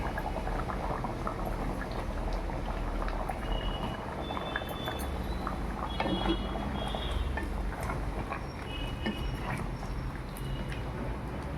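A pot of mutton bone curry with mango simmers, giving a low continuous bubbling and faint liquid gurgling throughout, quiet and close with small irregular pops.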